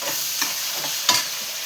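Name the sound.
tomatoes added to a frying pan and stirred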